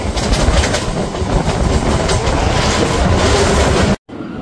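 A local train on the Howrah to Digha line pulling out of Mecheda station, recorded from on board as a loud, close, steady rumble and rush of wheels and wind with faint rhythmic clatter, cut off abruptly near the end.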